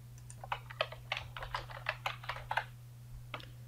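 Someone types on a computer keyboard, entering a host name and password for an Oracle BPM Suite domain setup: a quick run of close, crisp key clicks with a short pause near the end, over a faint steady hum.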